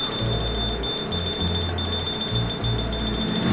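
Steady high-pitched beeping tone from a key finder, continuous and fairly loud, over a low droning hum with no voices.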